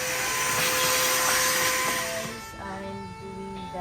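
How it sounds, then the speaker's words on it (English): Vacuum cleaner sucking dust out of a car interior, a loud steady whining hiss that drops in pitch and loudness partway through as the nozzle moves. "I'm doing the cleaning of the car. Vacuum because there's a lot of dust."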